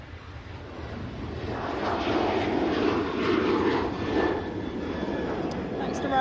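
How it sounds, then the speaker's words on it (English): A Ryanair airliner departs for Budapest, a broad distant jet roar that swells and holds at moderate level, with faint background noise. "This is Ryanair off to Budapest."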